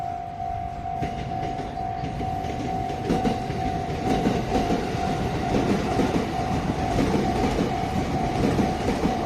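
Two trains pass each other at a crossing in Japan, giving a loud, steady rumble with clattering wheels and a sustained tonal whine. The sound is close by and continuous, with no talk.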